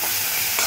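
Tomatoes with salt and turmeric stirred in a pan for a pumpkin-leaf bhaji, a short scrape of spoon against metal over a soft steady sizzle, close and alone.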